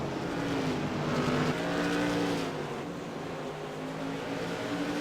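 Modified race cars race at Oxford Plains Speedway during a CAN-AM Tour Modified Series event. The engines keep up a loud, continuous roar with rising and falling pitch as the cars pass, and there is no talk over it.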